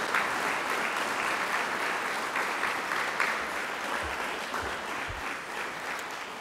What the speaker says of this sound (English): Let's have one more round of applause for all of tonight's award winners.